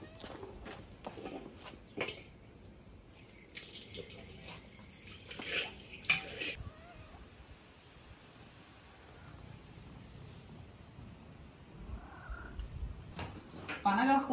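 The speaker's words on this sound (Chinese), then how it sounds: "现在把这个锅洗一下，好多天不做饭，这锅里面全是灰。" A cooking pot, dusty from days of disuse, is washed with water in a village kitchen. Running water splashes and gurgles in uneven spurts with scraping and clanking, while a voice talks faintly at times.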